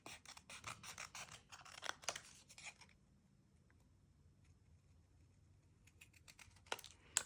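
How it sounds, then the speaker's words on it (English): Tim Holtz recoil scissors snip through paper in a quick run of crisp, close cuts, then a quiet pause before a few more snips and a final sharp cut. "now I'm just going to use a pair of scissors and trim this out."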